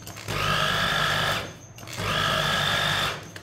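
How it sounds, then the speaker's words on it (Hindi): An electric grinder whirs through cooked mustard greens (sarson ka saag) in two short bursts, each about a second long, with a brief pause between them. The steady, loud mechanical buzz is close up, with no talk. "साग को ग्राइंड कर लेते हैं। मशीन को ज्यादा देर नहीं चलाना"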